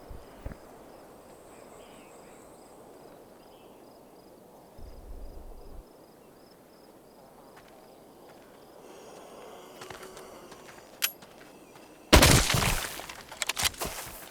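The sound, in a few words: gunfire in Arizona Sunshine VR video game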